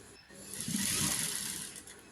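A sewing machine runs a short burst of stitching through a folded pillowcase, a steady close mechanical whir that rises, holds for about a second and a half, then eases off, with no talk.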